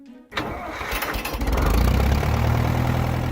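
A 2010 John Deere tractor engine cranks briefly and then catches, settling into a loud, steady running rumble close by, with no talk.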